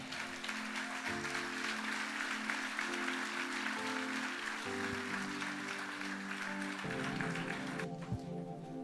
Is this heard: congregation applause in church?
yes